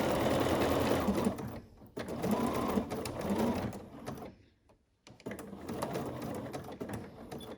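A sewing machine runs in steady bursts while stitching a ruffle neckline on a Kaki garment, its motor loud and close, pausing briefly near the middle and again before the end.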